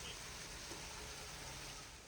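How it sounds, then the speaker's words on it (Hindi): Rain falling steadily in a village, a faint, even hiss of drops with no distinct pattering and no voices. "पहले से ज़्यादा बारिश हो रही है।"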